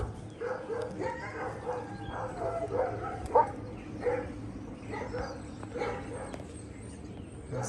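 Dogs at an animal shelter bark in short, scattered yips and woofs at a moderate distance, over a busy background murmur.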